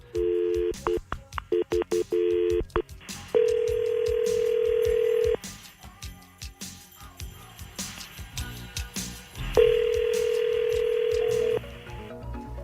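A telephone is dialed with a rapid run of keypad tones, then two long steady ringback tones sound with a pause between them, loud and clear with no talking.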